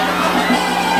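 Boxing fans in an arena roar and cheer excitedly, a dense, continuous wall of crowd noise with high shouts throughout the short burst.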